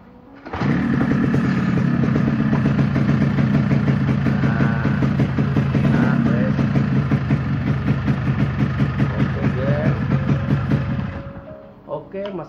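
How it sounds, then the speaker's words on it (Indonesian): A motorcycle engine runs at idle after being started, a steady close rumble that holds for about ten seconds before cutting off. "Mesinnya wes muni"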